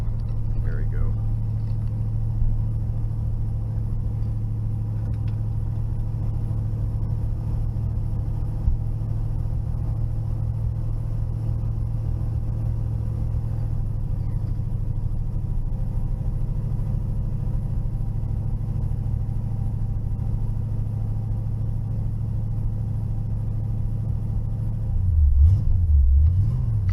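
A 1969 Pontiac Firebird engine idles with a steady low burble and rumble from nearby, holding an even level throughout, with a brief voice near the end.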